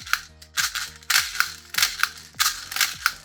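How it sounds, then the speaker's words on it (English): Rounds loaded into a rifle magazine with a speed loader for an MTW build, giving a series of sharp metallic clacks and snaps in rapid bursts, close and fairly loud, with no talking. "So you can see I'm filling this mag and it's not even moving yet."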